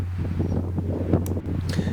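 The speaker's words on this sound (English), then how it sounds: "It's a pretty windy day, and I bet you can hear this in the video" Steady wind on a high-elevation mountain summit buffets the microphone with a constant low rumble and rushing noise, no voices heard.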